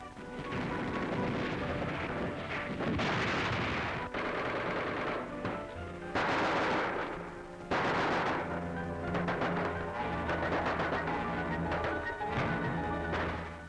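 Sniper and gunfire in city streets from a 1944 wartime newsreel, with loud bursts of shots and crashing impacts over a dense old recording, mostly without narration.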